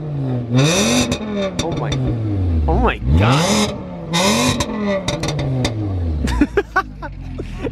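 A Ford Focus ST engine revs hard in repeated loud sweeps, pitch climbing and dropping, with pops and crackles between pulls and an excited voice exclaiming.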